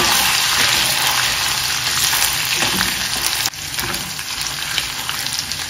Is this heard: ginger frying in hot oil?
yes